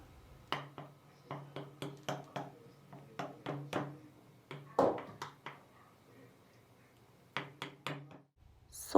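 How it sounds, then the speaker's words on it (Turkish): A fork pricks holes in rolled-out dough for a spinach quiche in a baking tray, making quick, crisp taps in rhythmic clusters of several strikes with short pauses between, close and fairly quiet. "Çatalla delikler açıyorum."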